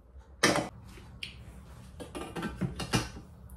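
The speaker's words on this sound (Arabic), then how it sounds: "نمشي نغسل البول هذا" A Thermomix bowl being washed: a short rush of running water, then clanks, rubs and metallic rattles as the bowl is handled and scrubbed close by, in irregular bursts.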